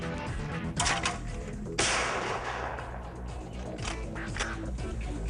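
A paintball marker fires at an outdoor paintball field, giving a few sharp pops, most clearly near the start and one stronger burst just before the two-second mark, with no talk over them.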